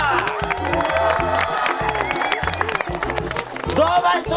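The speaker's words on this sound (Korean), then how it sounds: "박수 한번 주세요!" An audience on the Korean variety show Running Man, in episode 247 with TVXQ, bursts into applause and cheering, with whoops rising under a loud host's voice that keeps talking throughout.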